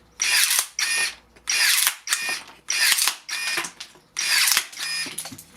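A Kebtek 25V cordless pruner chews through a half-inch-thick pine board in a series of loud, close motor bursts, each a whirring, rattling cut about half a second long with brief gaps between.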